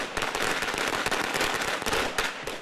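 Rapid, dense crackling bursts of firecrackers going off continuously, loud and close, like a long string popping without pause, during a dragon parade through the streets.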